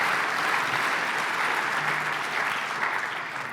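Banquet audience celebrating natural resources breaks into steady, dense applause that holds evenly for several seconds before easing slightly, with no talk over it.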